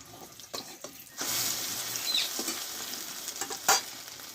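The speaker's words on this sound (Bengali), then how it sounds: "এই পিঠটা আমি দু মিনিট মতো ভেজে নিয়েছি এটাও আমি উল্টিয়ে দেবো" A brinjal omelette fries in a pan, Bengali style, with a steady close sizzle that swells after a few soft clatters as it settles, plus brief utensil scrapes.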